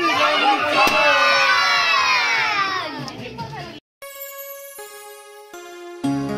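A group of people shouts a birthday greeting together in a loud burst, with children's voices among them, before the noise cuts off and a sung tune follows.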